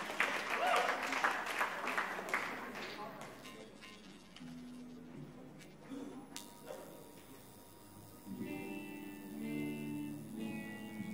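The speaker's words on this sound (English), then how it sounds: "Give another round of applause to them." A crowd applauds at a charity carnival stage, with clapping strongest at first and then fading. Talk and music tones come in later.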